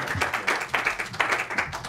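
A business-event audience claps in quick, uneven bursts of applause at moderate level, a scattered patter of hands rising and falling for a couple of seconds.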